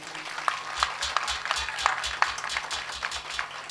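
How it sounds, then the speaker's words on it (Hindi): An audience at a religious katha gathering claps, a quick rhythmic patter of hands heard slightly distant and moderately soft, steady throughout. "तो जरा ताली बजा करके बताइए"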